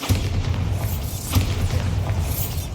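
Bombarda spell explosions from Hogwarts Legacy, a sharp booming blast that rises over a steady low rumble, with a second boom later, fairly loud and with no talking.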